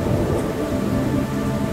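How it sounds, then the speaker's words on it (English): Heavy rain pours steadily with a low rolling rumble of thunder underneath, dense and continuous, no voices. "It was raining hard now,"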